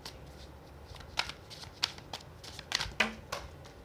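Tarot cards are shuffled and handled, giving several quiet, sharp riffling snaps and slaps spaced irregularly over a few seconds against a hushed background.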